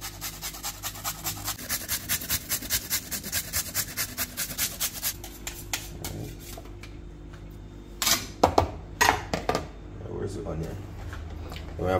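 Carrot rubbed on the small holes of a box grater while cooking Jamaican food: steady, rhythmic rasping strokes for several seconds, followed by a few louder clattering scrapes nearby.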